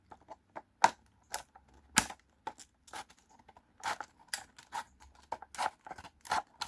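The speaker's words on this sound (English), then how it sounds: "Right, I'll only show you cutting the first one." Scissors snip through the packaging of a Bachmann Thomas and Friends model train wagon, a series of sharp, irregular cuts and crisp clicks close up in a quiet room.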